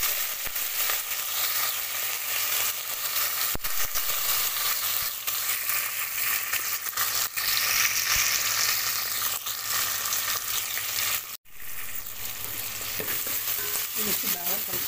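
Cumin, mustard seeds, green chili, onion and curry leaves fry in hot oil for a cucumber dal curry, giving a loud, steady, crackling sizzle throughout, broken once by a sharp clank near the end.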